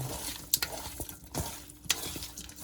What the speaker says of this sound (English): I put a little on the meat, and I put most of it in the oil for it to burn